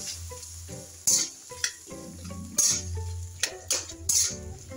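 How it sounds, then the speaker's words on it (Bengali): Tomatoes being stirred in a pan for tomato chutney over low heat, with a spatula scraping and knocking against the pan in irregular strokes over a low, soft sizzle. "টমেটোগুলো ভালো করে নাড়াচাড়া করবো।"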